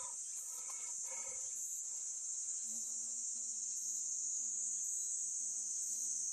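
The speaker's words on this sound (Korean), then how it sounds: "지금 웅웅 날아다닌 거는 파리 등의 종류입니다." Flies buzz low and close around someone weeding in an overgrown outdoor patch, a droning hum rising after a few seconds beneath a steady, loud high-pitched chorus of crickets or cicadas; no one speaks.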